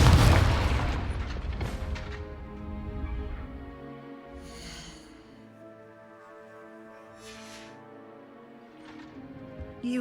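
A Confringo fire spell in Hogwarts Legacy bursts with a loud, close explosive boom at the start, then rumbles and decays into a quiet tail under soft tonal background sound, with a couple of faint crackles later.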